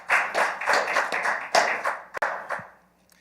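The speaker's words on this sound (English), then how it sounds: "Let's clap him up. You can clap him up." A small audience at a youth and college forum claps in a short burst of sharp, uneven hand claps that thins out and fades within about three seconds.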